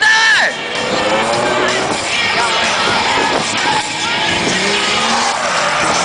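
A drift car at a 2009 bike show drift event, engine screaming at full throttle with long tire squeals and skids, loud and continuous, with a crowd faintly audible and a commentator talking over it.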